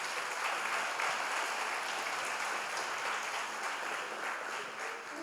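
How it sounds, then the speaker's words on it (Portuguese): A church congregation claps together in sustained, even applause, a dense wash of many hands that holds steady for several seconds, with no talking over it. "Vamos dar um aplauso para Jesus."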